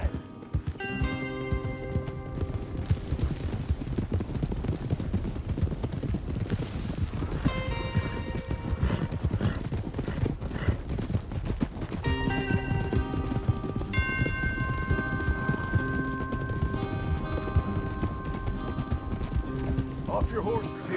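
Horses gallop in Red Dead Redemption 2, a steady loud drumming of many hooves running throughout, with music and voices talking over it in places.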